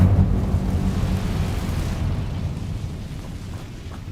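Incendio fire spell cast in Hogwarts Legacy, a dense low rumbling whoosh of flame that starts loud and slowly fades over several seconds with no talking.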